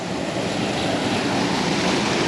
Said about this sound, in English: Got a waterfall and a pool.